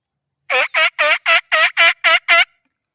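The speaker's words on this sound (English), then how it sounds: "I think I heard a gobbler on the other side of the canyon." Wild turkey gobbler gobbling from across a canyon, a rapid run of eight evenly spaced rattling gobble notes over about two seconds, clear and fairly loud against otherwise quiet surroundings.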